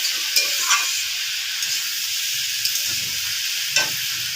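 Ash gourd frying in a pan, giving a steady close sizzle with occasional soft stirring scrapes and pops.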